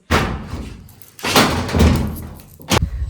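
A wardrobe door in a home bangs shut while a saree is put away, making several close, heavy thumps spaced apart with quiet between them.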